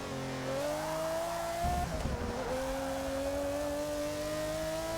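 V12 race car engine in Forza Motorsport 6, revving up through the gears with a rising whine, a brief shift and roughness, then climbing steadily again, heard alone at moderate level.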